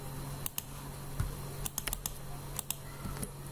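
A computer keyboard clicks as someone works through a SketchUp lesson. The keystrokes are quiet and close, scattered in irregular single and double taps over a low steady hum.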